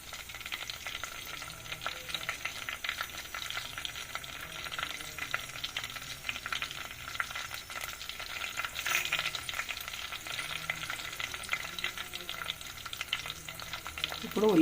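Ingredients for an old-style bilLala pulusu cook in oil in a pan, giving a steady, fairly quiet crackling sizzle with faint stirring scrapes throughout and no talk.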